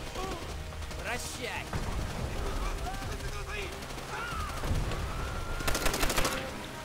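Rapid bursts of automatic gunfire and scattered shots in a World War II battle in the video game Call of Duty: World at War, sustained under voices speaking and swelling into a loud volley near the end.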